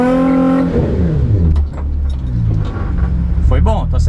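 A car engine revs hard and rises in pitch while drifting, roaring loudly with rumbling low tones as it accelerates, a voice briefly speaking over it.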